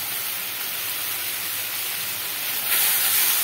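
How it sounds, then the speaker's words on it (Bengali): Masala frying on a medium flame, a steady broadband sizzling hiss that continues unbroken and grows slightly louder near the end, with no voices. "মিডিয়াম ফ্লেমে রেখে মশলাটাকে আমি একটু কষিয়ে নিচ্ছি"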